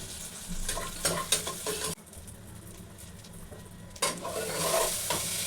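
Onions frying to golden brown in a pan for chole, a steady close sizzle with scraping stir strokes, dipping briefly in the middle before the stirring picks up again.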